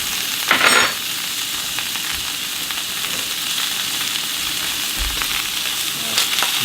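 A generous amount of butter sizzles in a new skillet, a loud, steady, close frying hiss with a brief bump as chunks drop in at the start.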